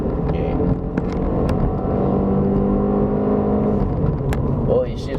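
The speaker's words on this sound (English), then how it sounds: "Oh, it shifts up by itself." A 2019 Hyundai Elantra climbs the Genting hill road with its automatic gearbox shifting up, its engine droning steadily and loudly inside the cabin while people talk over it.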